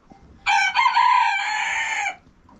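A Kartal breed rooster gives a single loud, close crow lasting about a second and a half, standing out against a quiet background.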